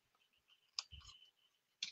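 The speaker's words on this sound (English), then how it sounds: "I'm going to get my scissors and I'm going to snip" Scissors snip paper while a small paper craft is being cut, giving a few quiet, crisp clicks spread unevenly over a near-silent background.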